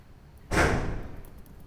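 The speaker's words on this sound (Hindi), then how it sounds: "दिवाली तो अभी आई नहीं है यार, अभी से पटाखा बजा रहे हैं" A single sharp, distant bang pops out of a quiet room tone and quickly fades, like a firecracker going off outside.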